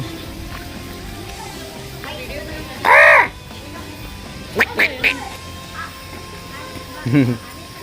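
Birds at an animal park in Nagoya, Japan, give loud harsh calls: one drawn-out cry, then a quick cluster of short sharp ones and a final call, over faint background noise.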